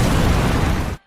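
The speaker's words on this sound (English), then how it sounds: "Yamamoto versus Yuha started off with an explosion, if you will." A massive explosion erupts during an anime battle between two powerful fighters, a dense, loud roaring blast that fills the whole second before cutting off abruptly into silence.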